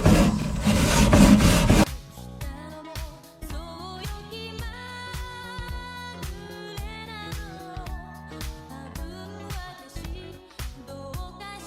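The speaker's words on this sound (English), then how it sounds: "Always scrub your grills, kids." A charcoal grill grate gets a brief, harsh scrubbing before steaks go on, a loud scraping burst lasting about two seconds, then music takes over.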